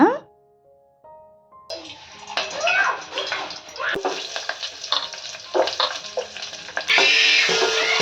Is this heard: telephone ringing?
no